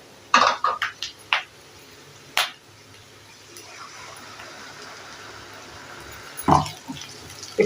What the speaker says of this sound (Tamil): இப்போ நம்ம ஜார் கழுவி ஒரு டம்ளர் தண்ணி இது சேர்த்துறோம்